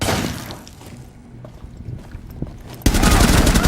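Thermite's assault rifle fires in the video game Rainbow Six Siege, with scattered shots early on and then a loud, dense sustained burst near the end.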